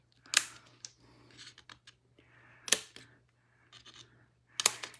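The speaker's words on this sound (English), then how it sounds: "We're going to just put little cut angles at each of these spines." Scissors snip angled cuts into the spines of a small handmade paper photo album, giving three sharp, crisp cutting bursts with softer paper rustles in between, close and quiet, no talk.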